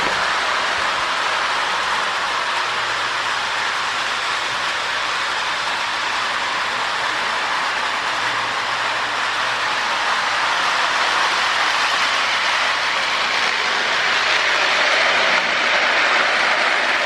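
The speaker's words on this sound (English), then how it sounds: "we'll wait for the train to go by" A train passes close by, a sustained, loud broadband rumble and roar that holds steady throughout and swells slightly toward the end, with no voices over it.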